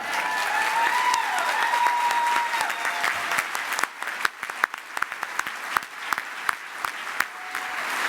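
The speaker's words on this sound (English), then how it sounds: "Another round of applause for a life saved." Sustained applause from an audience at an annual awards luncheon fills the room, a dense steady clatter of many hands that thins into scattered individual claps toward the end.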